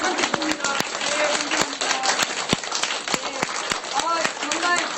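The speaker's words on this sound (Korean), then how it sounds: "정말 여러분들 이렇게 박수 쳐주셔서 감사드리고요" A crowd claps at the close of a Korean-language lecture in San Diego about mad cow disease, Roh Moo-hyun and the Sewol ferry. Steady, dense clapping fills the space, with voices talking over it throughout.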